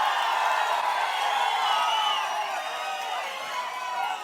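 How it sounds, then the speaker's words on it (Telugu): An audience at a political rally in Vemuru keeps up steady, loud clapping and cheering, a dense continuous roar of applause without a break. "మీరు కూడా గట్టిగా చప్పట్లు కొట్టి ఇలాంటి వాళ్ళకి"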